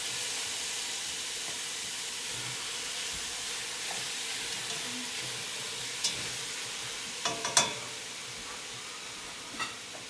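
Stew meat browning in olive oil in a pan, giving a steady sizzling hiss with a few brief pops and clicks near the end, no talk.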